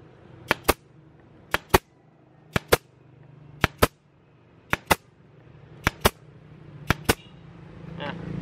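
Nail gun shooting nails, seven evenly spaced pairs of sharp, loud double-clack shots at roughly one-second intervals, close by, over a faint background hum.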